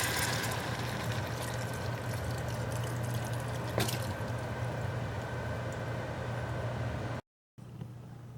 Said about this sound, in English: Now we're gonna add the broth